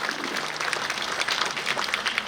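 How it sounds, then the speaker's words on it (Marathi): A crowd at a Marathi political gathering in Pachgaon applauds loudly to welcome a speaker. The clapping is dense and continuous, with no voices over it. "जोरदार टाळ्या वाजवून आपल्या ज्ञातसेनी वहिनींचं स्वागत करूया."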